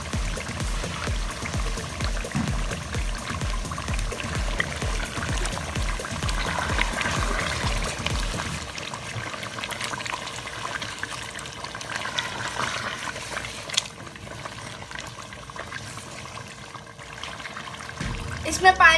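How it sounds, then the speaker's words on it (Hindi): Water pours and trickles steadily into a pot of chicken haleem for a long stretch, with clattering and background voices underneath. "इसमें पानी डाल के"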